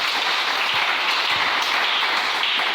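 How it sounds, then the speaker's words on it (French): A church congregation claps in praise of the Lord, a steady dense patter of applause that fills the whole moment without pause or voices. "Est-ce qu'on peut acclamer le Seigneur?"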